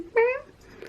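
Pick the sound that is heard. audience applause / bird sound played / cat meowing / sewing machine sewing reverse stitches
cat meowing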